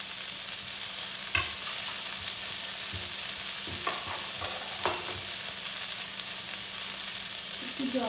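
Potato and eggplant fry in a pan with mustard paste thinned in water, a steady soft sizzle with occasional stirring scrapes and clinks, fairly quiet and close.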